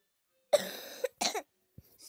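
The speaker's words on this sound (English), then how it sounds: "Still got a bad cough?" Two close coughs, the first longer and raspy, the second a short harsh burst, followed by a faint throat sound in an otherwise quiet room.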